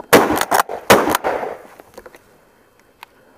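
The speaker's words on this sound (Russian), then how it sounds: "но сейчас мы повторим два выстрела опять" Two loud, sharp shotgun blasts firing buckshot in quick succession, each with a short echoing tail that fades into quiet outdoor air.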